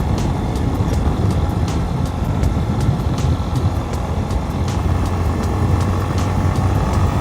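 A Yamaha XTZ Lander 250 motorcycle being ridden, its engine a steady loud rumble with constant road and wind noise and faint periodic ticks.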